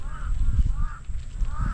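A crow caws three times at an even pace, moderately close, beside a cleared forest plot, over a steady low outdoor rumble with no talking.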